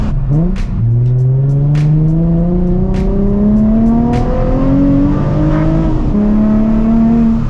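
A Nissan 350Z sports car engine revs and accelerates up through the gears, its pitch climbing repeatedly in loud, close, continuous bursts.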